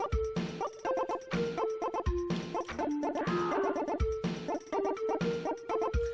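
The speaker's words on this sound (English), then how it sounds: "Rambo shooting a chicken." Synthesized chicken squawks from the Amiga game Rambo III repeat in a quick, rhythmic series of loud, buzzy electronic clucks with short gaps between them.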